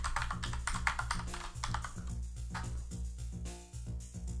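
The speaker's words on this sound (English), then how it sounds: "You hear my mechanical keyboard?" Rapid clacking keystrokes from a mechanical keyboard, a steady run of typing heard up close over a low background hum.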